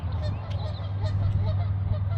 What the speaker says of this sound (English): Let's see if these geese are going to give us a proper welcome.